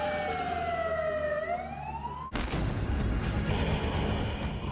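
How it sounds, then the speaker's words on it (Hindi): An emergency air raid siren in Ukraine during a Russian missile attack sweeps down in pitch, then cuts abruptly to a dense, rumbling roar of distant noise. "जगह जगह इमरजेंसी सायरन बजने लगे"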